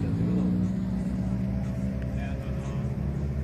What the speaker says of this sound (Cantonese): 咁跟住啲車就會出到個表演場嗰度。